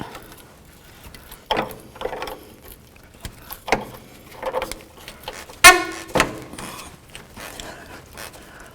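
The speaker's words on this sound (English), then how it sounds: "So we're going to take off this nut right here. It's 12mm." Ratcheting socket wrench loosening a 12mm nut on a Toyota 4Runner, bursts of clicks in short uneven strokes with a sharp fast ratchet run near the middle, close up with no talking.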